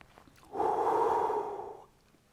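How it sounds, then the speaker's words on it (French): One slow, deep breath is drawn in audibly for just over a second during a guided relaxation exercise, then releases into quiet. "Et là, vous prenez une grande respiration."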